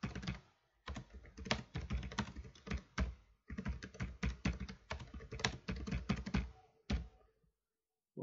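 Fingers type on a computer keyboard while text is entered in Microsoft Word, a close run of quick key clicks in irregular bursts with short pauses between them and no talking.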